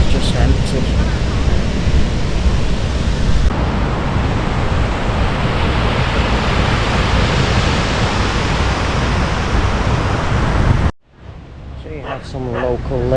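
Surf washing steadily onto Double Six Beach in Seminyak, Bali, a loud continuous roar of breaking waves with wind, cutting off abruptly near the end to a quieter stretch.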